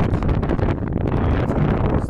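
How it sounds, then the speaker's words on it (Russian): Strong wind on an April lake buffets the microphone with a steady, loud roaring rumble and gusty fluctuations throughout, with no voices. "И у нас очень поднялся ветер"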